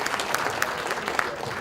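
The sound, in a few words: audience applause for the debate speakers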